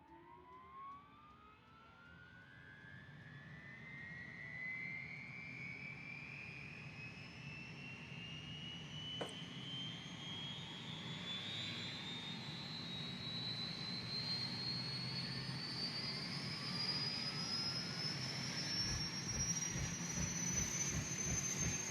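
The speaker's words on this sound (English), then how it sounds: "And here we go for engine start." UH-1 helicopter turbine starting up in the Nimbus flight simulator game, a rising whine that climbs steadily in pitch and loudness over a deepening rumble, with rotor thumps beginning to pulse near the end.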